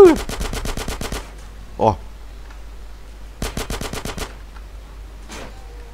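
SMG submachine gun fire in GTA San Andreas, two fast bursts of rapid shots separated by a pause, fairly close and crisp, with someone briefly speaking between them.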